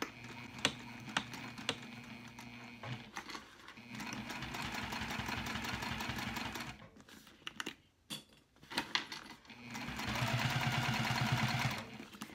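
A sewing machine stitches through a cork bag in several bursts, starting slowly with clicks and ticks, then running in steady whirring stretches, pausing in between.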